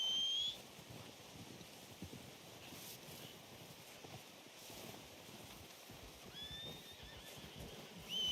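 A horse whinnies in Red Dead Redemption 2, a short neigh at the start and another near the end, against a steady wind and outdoor ambience on a snowy mountain.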